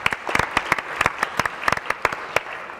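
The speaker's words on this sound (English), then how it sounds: "Guys, please give a rousing applause for PreDxion." Sparse applause for a startup team at a pitch competition: a small group claps with distinct, uneven individual hand claps close by, no voices.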